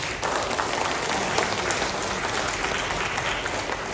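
An audience applauds the CEO at a corporate gathering, a dense, even burst of many hands clapping throughout, moderately loud with no one speaking over it.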